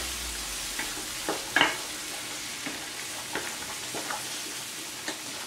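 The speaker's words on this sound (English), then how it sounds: "Then let's just stir that together." Food is stirred together in a pan with a spoon, giving a few scattered scrapes and knocks against a soft, steady sizzle. The scraping is fairly quiet and close.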